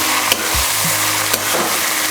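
Roasted grated coconut mixture is stirred in a pan, with a faint sizzle underneath and a few sharp scrapes and knocks from the spoon at irregular intervals.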